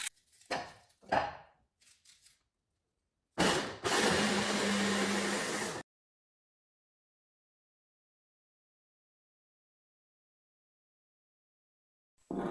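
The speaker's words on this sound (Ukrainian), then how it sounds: "Це я буду робити також за допомогою блендера." A few sharp knocks, then a blender chopping onion roars loudly for about two seconds and cuts off into silence.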